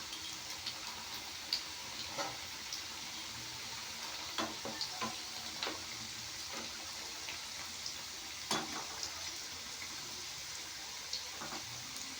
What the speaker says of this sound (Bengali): এবার আমি একে একে ভেজে নেব